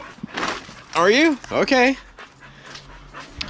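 A dog whimpers and pants nearby in a yard, giving soft whines and breathy puffs, while a person speaks briefly and the dog's vocal sounds rise loudly through the middle.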